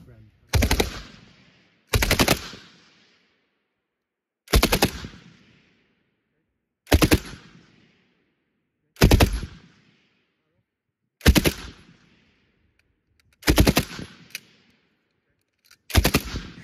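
A Vickers machine gun fires eight short, loud bursts at regular intervals of about two seconds, each a sharp clattering volley that decays quickly into near silence between bursts.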